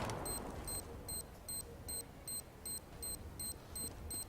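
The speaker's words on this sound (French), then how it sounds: "Bomb has been planted." A planted bomb in Counter-Strike: Global Offensive ticks during a defuse with evenly spaced, high electronic beeps, about ten of them in a steady rhythm over a low, quiet in-game background.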